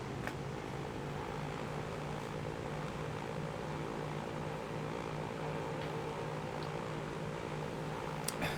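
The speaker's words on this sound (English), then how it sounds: "jump on board the next plane that's headed in that direction" Propeller airplane in the game Transport Fever, a continuous even engine hum with a low steady drone, holding without pause and with no talking over it.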